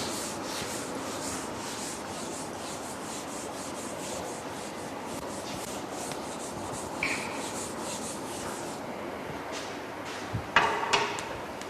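Continuous dry rubbing of a duster against a classroom board, a steady scrubbing texture lasting several seconds, ending with a few louder knocks and scrapes, no speech.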